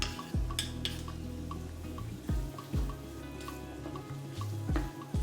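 Garlic added to onions sweating in a pan sizzles steadily while a spoon stirs, giving occasional soft scrapes and knocks against the pan over the continuous frying hiss; no talking.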